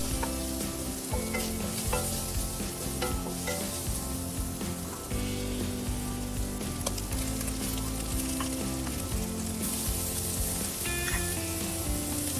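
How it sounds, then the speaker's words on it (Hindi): Shredded chicken and almonds fry in hot oil for a restaurant-style soup, making a loud, dense, unbroken sizzle heard up close with occasional stirring and no talking. "जब चिकन गोल्डन होने लगेगा तो फिर हम इसमें पहले बादाम डाल के उनको भी फ्राई कर लेंगे"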